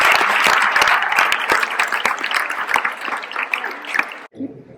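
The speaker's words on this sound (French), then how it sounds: "Je crois qu'on peut l'applaudir." Applause at a local association awards event in Guer, France, with close, distinct claps from a modest crowd that cut off abruptly near the end, followed by a brief murmur of voices.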